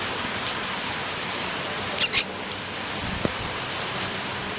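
Steady, even hiss of rain falling, with a couple of brief louder splashes partway through.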